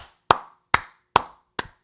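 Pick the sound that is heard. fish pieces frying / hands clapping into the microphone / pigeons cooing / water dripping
hands clapping into the microphone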